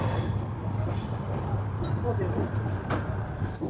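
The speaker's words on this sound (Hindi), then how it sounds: "इस वक्त हमारी ट्रेन इस खूबसूरत कर्व से होते हुए एंटर कर रही है चूरू जंक्शन पर" The Bikaner–Prayagraj SF Express 12404 rolls around a curve into Churu Junction, heard from on board as a steady rumble of wheels and carriage, with people talking over it the whole time.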